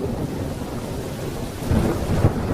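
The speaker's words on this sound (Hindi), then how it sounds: "बारिश भी रुकने का नाम नहीं ले रही है।" Steady heavy rain hisses in a cartoon storm while a low rumble of thunder swells toward the end, with no voices over the downpour.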